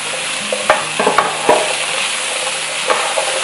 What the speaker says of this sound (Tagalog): Sama natin itong hamburger patties.